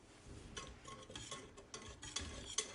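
A whisk scrapes and swishes through a thickened coffee and chocolate stout sauce with soft, irregular strokes and a few light metallic ticks, faint and close.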